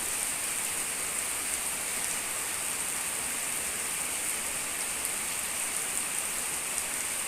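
Heavy rain pours steadily and loudly over rice paddies, a dense, continuous hiss with no let-up and no voices.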